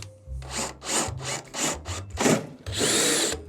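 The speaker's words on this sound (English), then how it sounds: "Yeah, let's drill some rivets out." A power drill bores out rivets on a computer case in a series of short, loud, grinding bursts with brief pauses between, ending in a longer screeching run.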